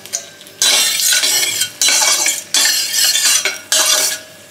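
Dry red chillies tossed into hot oil in a wok, stirred in four loud, regular bursts of scraping and sizzling with short quiet gaps between. Close and with no talking.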